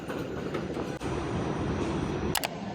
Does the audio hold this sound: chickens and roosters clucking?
no